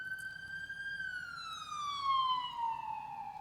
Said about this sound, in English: This ambulance, Hey. we're going to let them slide past.